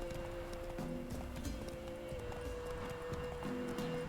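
Roach, the horse in The Witcher video game, gallops with steady rhythmic hoofbeats, faint and low in the mix under a continuous game soundtrack hum.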